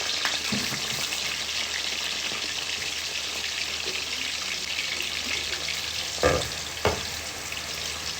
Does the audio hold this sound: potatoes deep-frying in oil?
yes